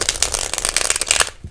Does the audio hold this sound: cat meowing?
no